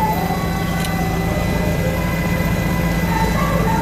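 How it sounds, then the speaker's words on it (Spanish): Policía Nacional Halcón helicopter in flight over Cali, its engine and rotor making a steady, loud low drone that fills the whole stretch without a break. "esto es lo que estamos observando desde el helicóptero halcón de nuestra Policía Nacional"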